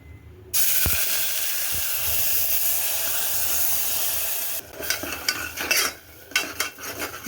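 Onion, garlic and ginger frying in oil in a pan for spicy mutton masala, a steady loud hiss after a sudden start, then a few stirring scrapes and clinks near the end, with no voices.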